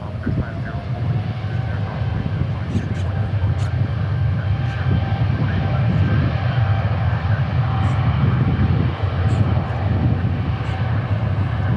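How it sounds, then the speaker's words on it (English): An EVA Air jet bound for Anchorage takes off at DFW airport, its loud, steady engine roar filling the whole stretch with broadband rumble as it climbs away. "we got Eva Air taking off to Anchorage"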